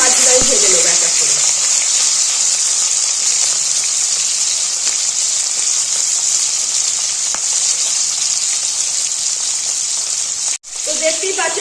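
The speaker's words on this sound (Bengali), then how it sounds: "এবার এক এক করে গোটা গোটা ইলিশগুলো তেলের মধ্যে ছেড়ে দেবো।" Whole hilsa fish frying in hot oil in a wok, a loud steady sizzle that fills the clip and drops out briefly near the end before resuming.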